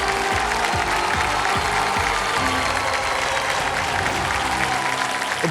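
Sustained, loud studio audience applause with a few cheers for Aamir Khan and Sunny on a TV quiz show stage, dense clapping running steadily throughout and easing slightly at the very end.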